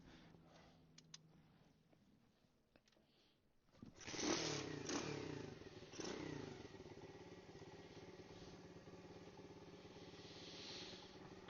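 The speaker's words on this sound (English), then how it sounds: "see if we can get the bike started here" A Honda ST90 motorcycle is kicked over and catches after a few faint clicks, its small engine then idling loudly and steadily up close, with a brief rise in revs as it settles.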